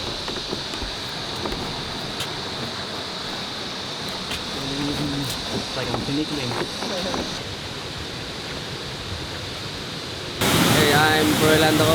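Tangadan Falls waterfall in San Juan, La Union, a steady broadband rush of falling water heard at some distance, with brief voices partway through and the roar growing louder and closer near the end.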